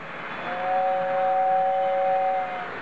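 A sustained two-note electronic toy train whistle, the North Pole Central whistle, plays for about two seconds over background hiss, steady and close by.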